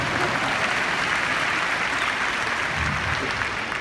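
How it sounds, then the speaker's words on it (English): Crowd applause during a political campaign speech by Jeb Bush, a dense, continuous roar of clapping hands that stays loud and even from start to finish. "please, applaud"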